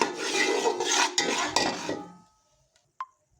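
A spoon scrapes and clatters around a pan as gram flour (besan) is roasted and stirred for carrot barfi, a busy run of close metallic scraping and knocks that stops, then one sharp clink rings out in the quiet.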